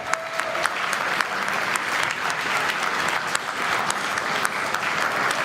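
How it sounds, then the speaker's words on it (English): An esports grand final audience at Ferrari World, Yas Island, Abu Dhabi claps and cheers steadily, a broad, sustained wash of applause with a few sharper claps standing out. "Give yourselves a round of applause"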